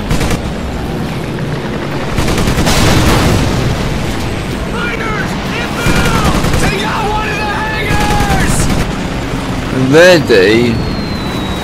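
Gunfire and explosions from the World War II shooter Medal of Honor Pacific Assault, with booms and bursts rolling under game voices and someone talking, plus a sharper blast near the end.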